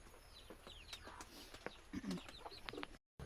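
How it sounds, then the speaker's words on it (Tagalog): Chickens cluck and coo softly at a rural Filipino home on a hillside, scattered short calls over quiet outdoor ambience, fairly faint, with brief chirps mixed in and a short dropout near the end. "May mga manok din sila guys."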